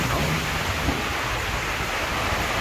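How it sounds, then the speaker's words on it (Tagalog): Heavy rain pours in a steady, broadband hiss with a low rumble underneath, loud and unbroken throughout. "May unos."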